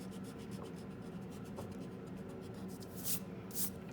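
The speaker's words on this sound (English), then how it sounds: "So, I'm gonna erase it." Soft, steady rubbing of an eraser across paper as a pencil drawing for a first-grade caterpillar craft is erased, quiet and continuous with a couple of brief louder scrubs near the end.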